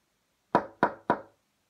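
Three evenly spaced knocks on a wooden door, close and clear, with silence before and after.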